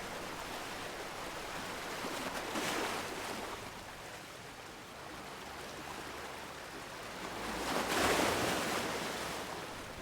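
Ocean waves break at the tidal edge of the Northumberland coast with a steady broadband wash. Two louder surges swell and recede over about ten seconds, and faint wind runs underneath, with no voices.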